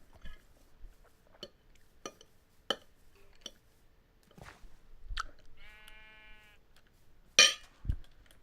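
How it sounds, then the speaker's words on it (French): Sheep bleating in modded Minecraft, one clear wavering bleat in the middle amid sparse clicks and sharp block and item sounds, with a loud burst near the end. "Et j'ai entendu des moutons, là."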